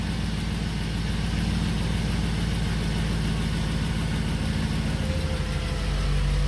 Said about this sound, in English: now the motor's running